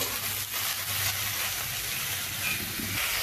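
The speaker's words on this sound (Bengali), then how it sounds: "ঝিঙেগুলোকে এবার আমি একটু ভালোভাবে ভেজে নেব" Sliced ridge gourd frying in a pan in a home kitchen, giving a continuous close sizzling hiss with a low background hum, steady and without voices.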